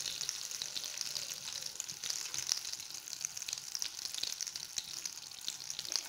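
Sardines fry in oil and butter in a pan, giving a steady, soft sizzle with scattered small pops and crackles throughout, close and continuous, with no voices.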